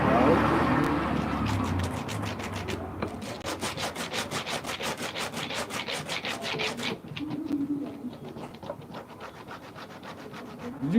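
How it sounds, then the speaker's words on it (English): A scraping tool is drawn repeatedly over a slipper being revamped, a fast, even run of rough rubbing strokes close by with a brief pause partway, while a voice talks faintly in the background. "I'll be using this to scrape."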